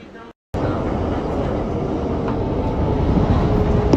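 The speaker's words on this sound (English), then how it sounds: "This is a Bronx-bound 6 local train." A Bronx-bound 6 local New York subway train rumbles along after a brief silence, a steady, loud roar with a rising high squeal toward the end.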